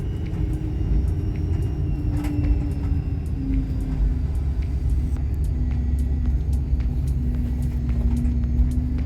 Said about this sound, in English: as I'm sure you could hear, that is my power steering pump